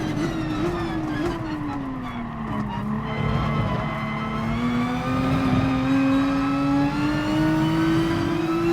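Race car engines roar around the track in the GT Sport video game during the final lap, a loud, continuous engine drone whose pitch sweeps down and back up with gear changes and throttle, with faint tire skids.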